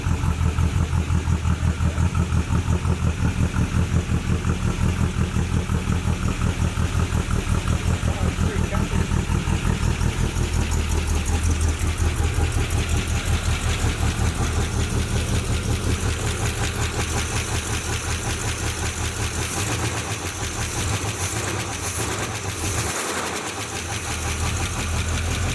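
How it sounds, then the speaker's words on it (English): A 1981 Pontiac Trans Am engine idles steadily at close range after 18 years abandoned, with a rapid ticking from noisy lifters running through the low rumble for the whole stretch and a brief dip near the end. "Lifters are a little noisy, but might have a piece of trash in it or something."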